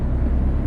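A truck's air brake in American Truck Simulator lets out a loud, close, steady hiss that fills the whole brief moment.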